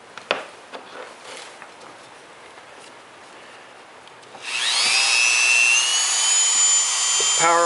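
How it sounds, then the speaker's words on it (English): A Dremel rotary tool spins up partway through and shapes a cork, a high steady whine holding at full power after quieter handling noises and light knocks beforehand. "I like to use a Dremel tool."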